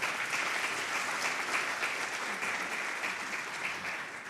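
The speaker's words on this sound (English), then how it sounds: "Can we please give our presenters a round of applause?" A room full of forum attendees gives presenters a steady round of applause, dense continuous clapping that holds even throughout and fades slightly at the end.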